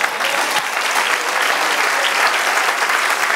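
A church congregation applauds during a Spanish-language sermon, a loud, dense and sustained burst of clapping that holds evenly from start to finish with no voices rising above it.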